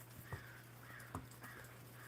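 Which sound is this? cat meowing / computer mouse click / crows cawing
crows cawing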